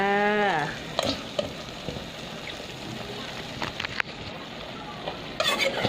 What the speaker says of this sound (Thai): ขัวหมูให้สุกก่อนค่ะ